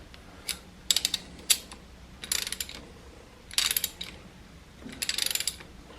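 A thread chaser being turned into spark plug threads, heard as close bursts of rapid ratchet clicking in several separate runs with quieter pauses between them.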